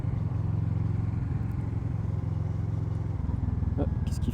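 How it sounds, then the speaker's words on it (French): A Kawasaki Z650 with an Akrapovic exhaust cruising along, a steady close low engine rumble running throughout with a faint clack near the end. "Je sais pas si vous entendez bien le son de la moto."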